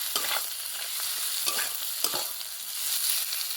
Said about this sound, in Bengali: এবার এটা নিয়ে নেবো ভালো করে একটু নেড়ে চেড়ে নেবো